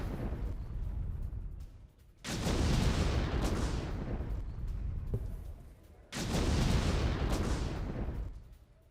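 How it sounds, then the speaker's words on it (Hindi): An underground tunnel in southern Lebanon is demolished, with two heavy, deep rumbling blasts a few seconds apart, each swelling loud and then fading slowly into a low roar. "दक्षिणी लेबनान में अंडरग्राउंड टनल ध्वस्त कर दी है।"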